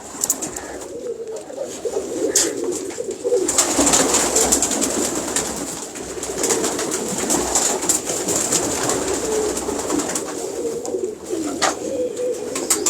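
Pigeons coo steadily on a rooftop loft, soft repeated calls layered over a busy outdoor background with occasional sharper chirps and no talk.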